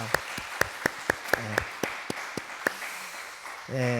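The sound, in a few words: congregation applause in church service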